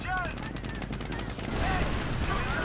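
A video game tank cannon fires and destroys a Pershing tank: loud shot and impact noise with rattling mechanical clatter, the sound swelling heavier in the second half.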